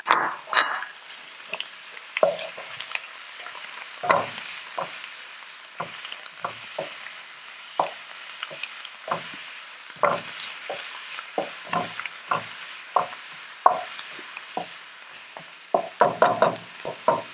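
Cilantro being stirred into rice that sizzles steadily in a pan, with repeated sharp scrapes and clacks of the utensil against the pan over a continuous frying hiss, and no talking.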